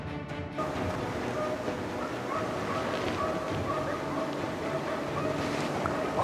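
Hunting dogs bark steadily during a driven wild boar hunt in Sweden, heard at a distance through constant broadband noise of wind or water, with some voices faintly present.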